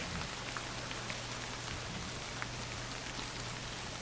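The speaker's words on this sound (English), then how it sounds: "The rain has become quite terrible." Heavy rain falls in a video game as a constant, even hiss with scattered droplet ticks, moderately quiet and with no talk.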